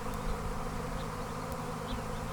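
Thousands of honey bees from a swarm drone steadily around a hive entrance, with occasional louder buzzes as single bees fly near.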